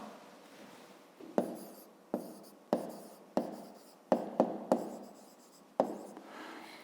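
Pen strokes on paper while numbers are written out for a fifth-grade math exercise, a series of about nine distinct close taps and short scratches with soft rubbing between them, no talk.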